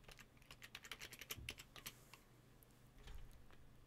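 A password is tapped out on a computer keyboard while setting up Ubuntu on a Raspberry Pi 4, a quick run of close, crisp keystrokes, then a pause and a few softer clicks.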